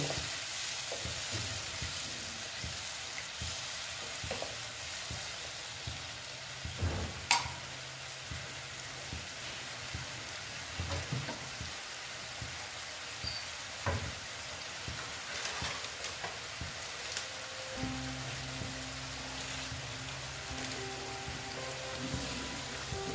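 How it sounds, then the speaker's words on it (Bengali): Bengali paneer curry frying in a pan: a continuous close crackle and sizzle with scattered spatula scrapes and a few sharp knocks against the metal, with a low hum in the background. "দিয়ে এটাকে আমি ভালো মতো একটু ভেজে নেব"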